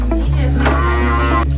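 A cow on a small homestead farm lets out one loud, close, drawn-out moo that fills the moment.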